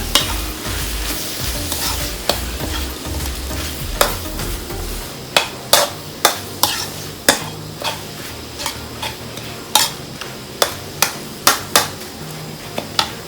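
Field rat curry with green peppercorns is stir-fried in a pan. A loud sizzle with low rumbling comes first, then about a dozen sharp, close clacks of a utensil scraping and striking the pan over a softer ongoing fry.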